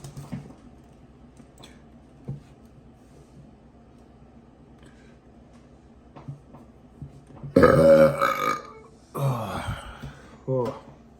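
A man lets out several loud, long burps close up, with quieter clicks and shuffling before them and a short vocal sound between.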